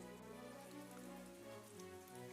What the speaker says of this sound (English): listening to the rain